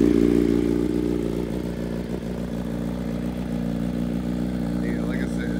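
A BMW M1000RR superbike fitted with an SC Project exhaust and a new tune idles close by with a deep, steady rumble, the engine note holding smooth and even while someone talks faintly.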